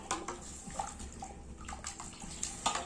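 Water bubbling and gurgling in a pot at a rolling boil, quiet and close, with small irregular pops and splashes.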